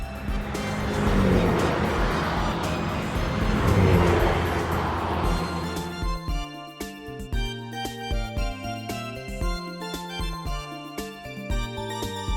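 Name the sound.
taxi car driving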